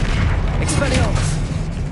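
Disarming spell blast in the video game Hogwarts Legacy: a loud, booming magical burst with crackling impacts and a brief whistling sweep, heavy low rumble sustained for a couple of seconds.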